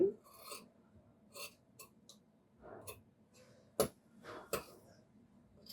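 Scissors snip through shirt fabric at the neckline during basic tailoring, giving faint, sparse, crisp cuts and clicks spaced irregularly in a quiet room.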